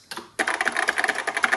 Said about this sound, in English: Listen to the sound of that keyboard.